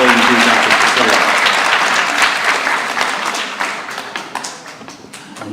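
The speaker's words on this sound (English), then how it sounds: "So we can give her another round of applause." An audience at an 8th grade graduation ceremony at Hamilton School claps loudly and continuously. The applause is dense at first, then gradually thins and fades as individual claps become more distinct.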